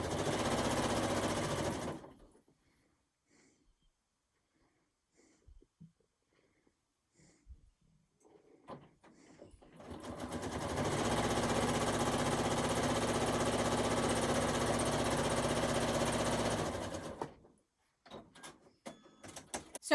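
Sewing machine stitching scraps of fabric batting: one short whirring burst at the start, a pause with faint handling noises, then a longer steady run of close, even mechanical stitching that stops abruptly, followed by light clicks.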